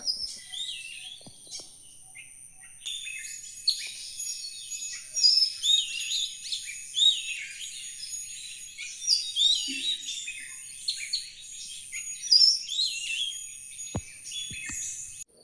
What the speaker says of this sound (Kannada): ನೀವು ಕೂಡ ನಮ್ಮ ಪರಿಸರದಲ್ಲಿ ಹಕ್ಕಿಗಳು ಕೂಗುವುದನ್ನು ಕೇಳಿ ಆಯಿತಾ.